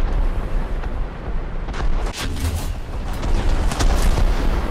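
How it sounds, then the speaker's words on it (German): Artillery fire in War Thunder with a T-34 (1940) tank, heavy booms and rumbling blasts layered over dense battlefield noise, loud and continuous with a few sharper bursts. "Artillerie, okay."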